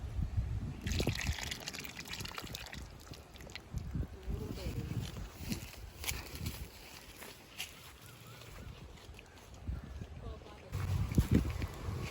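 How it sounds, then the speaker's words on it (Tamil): Tamarind juice is poured into odiyal flour for a traditional Jaffna odiyal kool porridge, with trickling and splashing liquid in bursts under ongoing talk. "இந்த பழப்புளியை இதுக்குள்ளே ஊற்றுவோம்"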